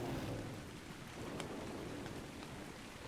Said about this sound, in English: it is still raining too